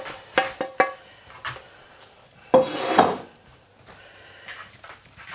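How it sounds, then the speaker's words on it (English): Leftover ham and potato casserole being topped with potato mix, a spoon clinking and scraping against the dish in a few close knocks, then a softer scoop and plop, with no talking. "now we're going to add the remainder of our potato mix on top"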